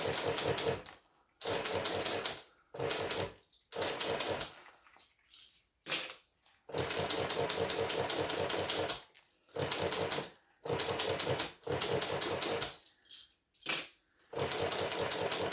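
A cylinder arm sewing machine stitches a fabric pouch in repeated loud mechanical runs of rapid needle chatter, each lasting one to a few seconds and separated by short pauses, with no talking.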